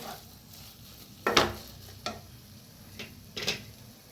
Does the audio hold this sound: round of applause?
no